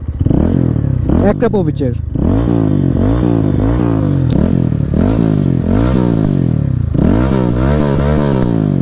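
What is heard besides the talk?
modified Lifan KPR 165 motorcycle exhaust revving while stationary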